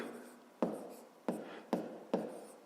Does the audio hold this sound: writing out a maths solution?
yes